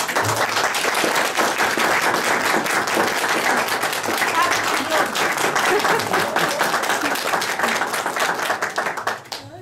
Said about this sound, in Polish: Dziękuję za tyle brawa.